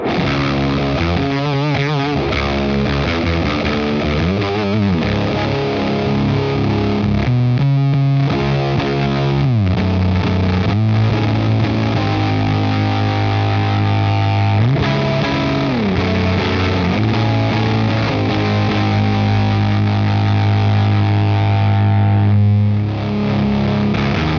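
Electric guitar in single-coil pickup mode played through a heavy JHS 3 Series distortion pedal, loud and continuous with sustained chords and riffs, harmonically dense and gritty throughout.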